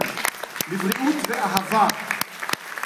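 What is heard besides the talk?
audience applause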